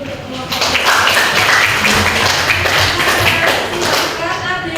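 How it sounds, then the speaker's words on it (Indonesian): A physics class applauding a student group after a presentation: loud, close, steady clapping from many hands filling the room for nearly five seconds, with faint voices mixed in. "Tepuk tangan dulu untuk kelompok."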